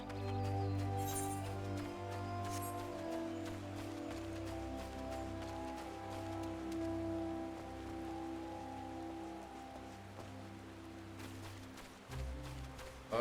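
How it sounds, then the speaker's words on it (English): Rain in the online role-playing game Final Fantasy XIV patters steadily, a soft continuous shower heard under background music, with no talking. "Here we go with the rain again."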